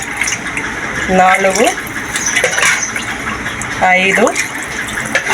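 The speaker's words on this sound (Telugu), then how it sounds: "అండి వాటర్ పోస్తున్నాను. 6 గ్లాసులు అండి వాటరు." Several glasses of water are poured into a pot of partly cooked rice for chicken dum biryani, with gushing splashes in two bursts under ongoing kitchen noise while a person counts aloud.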